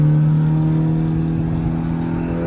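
A turbocharged 500 hp Honda Civic sleeper with its exhaust cutout open accelerates on a drive, a loud, steady engine drone heard from inside that holds without pause and without voices.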